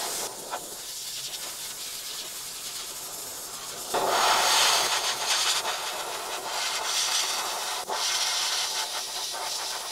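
An airbrush sprays red paint with a steady close hiss. It swells into louder bursts partway through and again near the end.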